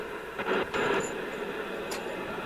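Steady broadband FM hiss from a Gecol GT858B CB27/81 UK FM CB radio under service alignment fills the clip, with a couple of brief louder surges early on and a faint tonal whine near the top.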